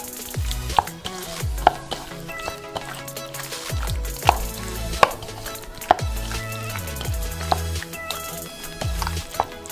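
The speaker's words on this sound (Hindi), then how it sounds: "अब हम इसको हाथ की मदद से अच्छी तरह से मिला देंगे।" Chicken being mixed by hand with vinegar in a bowl, wet squelching and slapping sounds with regular sharp knocks against the container, close and fairly loud, no talking.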